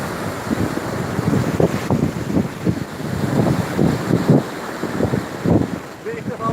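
Rough, choppy sea breaks along the Istanbul shore in strong wind, with a steady roar of gusts buffeting the microphone over low, surging wave rumbles that swell and ebb throughout.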